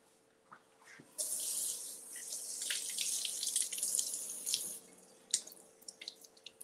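Blueberries being rinsed under a kitchen sink faucet: water gushes on suddenly and runs steadily, splashing over the berries for several seconds before tapering off into a few drips and clatters.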